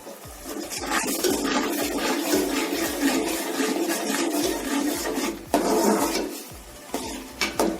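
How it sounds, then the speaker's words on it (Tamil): A small splash of water is poured into a hot pan while cooking lemon rice, giving a steady rushing, sizzling hiss for several seconds with a brief louder surge near the end. "கொஞ்சமாக தண்ணி"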